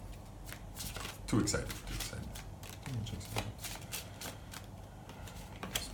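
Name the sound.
playing cards being shuffled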